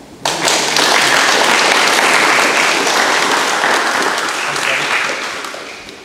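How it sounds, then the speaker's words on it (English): Sustained audience applause at an electric vehicle association meeting, dense clapping from a room of people that rises quickly, holds steady and fades slightly near the end. "All right, round of applause for Wolfgang."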